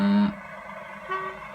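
Low-then-high two-tone horn from a Graham Farish Class 108 DMU model train: a loud low note sounds first, then a softer, higher tone follows a moment later.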